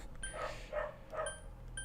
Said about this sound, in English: Listen to that beautiful sound of a dog barking like crazy.